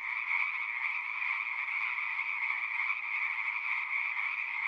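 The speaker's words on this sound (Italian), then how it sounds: "Alla Palude di Onara sono presenti varie specie di rane, come l'ile intermedia, la raganella," A dense, steady chorus of frogs, including Italian tree frogs, croaks in the wetland of the Onara marsh, continuous and fairly close with no voices.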